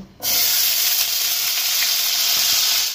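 Raisins drop into hot oil for fried rice and start frying at once, a loud, close, steady hiss and sizzle that holds evenly for a few seconds before cutting off, with no talking.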